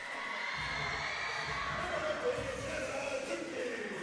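A crowd fills a high school volleyball gym in the Queen City, cheering and shouting in a steady wash of noise, with a few voices rising above it.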